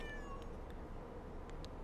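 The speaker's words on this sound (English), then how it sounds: "There's that cat again" A cat meows a few short times inside a studio, faint and thin against a steady low hiss, with quick separate cries near the start and toward the end.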